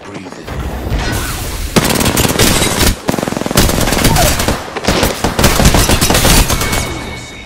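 Dense bursts of rapid automatic gunfire from a video game firefight, loud and close, with sustained machine-gun rattles broken by brief pauses and overlapping shots, no voices audible.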